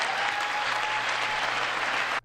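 Audience applause during the State of the Union address, a sustained roar of clapping from a large chamber crowd that cuts off abruptly at the end.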